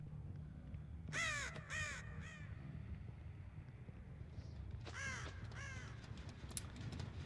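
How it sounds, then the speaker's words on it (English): A crow in the game Dead by Daylight gives two bursts of harsh caws, first a cluster of three, then after a pause another pair, fairly clear against a quiet, rumbling ambient background with no talk. "Pretty sure I heard a crow back here"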